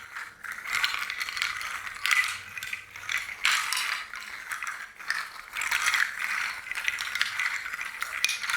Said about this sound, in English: And I also got these rattles.